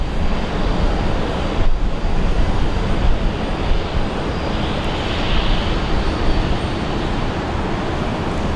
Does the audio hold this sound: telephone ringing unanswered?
no